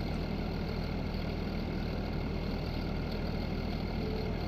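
Tractor engine in the video game Farming Simulator 19 drones in a steady, unchanging idle, a constant low rumble with no revving or variation throughout.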